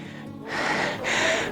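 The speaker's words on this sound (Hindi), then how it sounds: "मैं इतना तेज भागते हुए आया हूँ कि बस हाँफ रहा हूँ" A man pants hard after running fast to a sunset viewpoint at Guru Shikhar, Mount Abu, with two loud, close, breathy heaves in a row.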